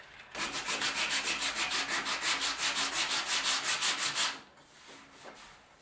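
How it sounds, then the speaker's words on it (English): Steady back-and-forth hand sanding on a Honda NT400 motorcycle fuel tank, close and loud rhythmic rasping strokes for about four seconds before stopping, then a couple of faint strokes. "I'm not going to show you 4 hours of me sanding"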